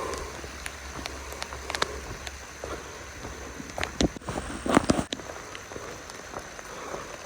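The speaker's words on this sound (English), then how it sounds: "it's been raining steady for a while" Steady rain falls on a hiking trail, a soft continuous patter with scattered louder drips and rustles nearby, no voices.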